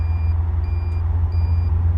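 Three steady electronic beeps sound in a regular rhythm over a loud, low engine rumble, the reversing warning tone of a Caterham Seven CSR Twenty.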